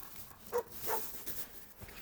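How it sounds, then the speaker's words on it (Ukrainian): A couple of faint, distant dog barks sound through quiet outdoor background noise at a garbage dump, short and spaced apart. "Собака тут може бути, бо його знаю."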